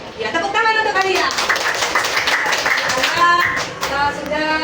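A fifth-grade Islamic studies class claps for a student named Alia, a lively spread of hand claps that runs the full few seconds. Children's voices and chatter sit over the applause.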